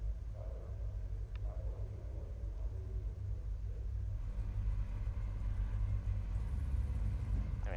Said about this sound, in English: There is a good roar from these cars.